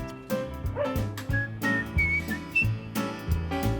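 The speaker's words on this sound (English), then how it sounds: "I've got two Cocker Spaniels, Tia and Harry." Several short cocker spaniel yips and whines come one after another in quick, uneven bursts, up close, with thumping sounds between them.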